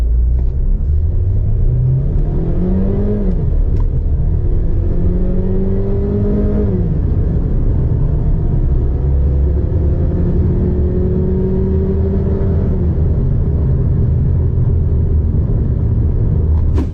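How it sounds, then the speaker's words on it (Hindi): MG HS SUV accelerating hard from standstill in a 0 to 100 test, heard from inside as a loud engine rumble climbing in pitch through several gear shifts over a steady road roar. "तो 0 to 100 देखते हैं गाड़ी कितनी देर में करती है।"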